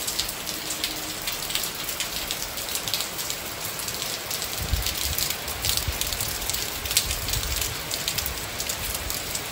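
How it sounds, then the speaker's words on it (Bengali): Steady rain falling and pattering on surfaces nearby, a continuous even hiss with scattered heavier drops throughout. "বৃষ্টি হচ্ছে।"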